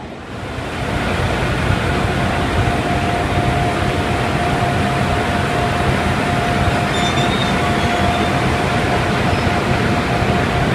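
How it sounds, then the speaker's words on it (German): Continuous loud rumble of rolling rail stock as an Italian locomotive approaches to couple onto a Swiss train on the route to Expo Milano, with a steady faint whine running through the noise and no voices. "da hinten kommt unsere italienische Lok angefahren"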